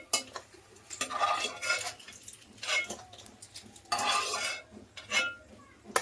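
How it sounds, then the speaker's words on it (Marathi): A metal spoon scrapes and clinks against a pan as fried cashews are lifted out, in several short bursts of stirring and scraping separated by quiet pauses, with no talk. "काजू काढून घेते मी आता."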